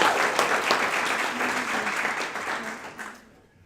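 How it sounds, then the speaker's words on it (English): Audience applause at a graduation ceremony, a full crowd clapping strongly and then gradually fading out, with a few voices faintly underneath. "So another big round of applause for these folks."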